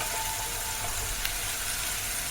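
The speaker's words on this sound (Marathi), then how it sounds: "आता जो पण आलं लसूणचा कच्चा वाज जात नाही तो पण आपल्याला परतून घ्यायचा" Ginger-garlic paste sautéing in a pan while paneer butter masala is cooked, giving a quiet, even sizzle that holds steady throughout with a faint tap or two and no talking.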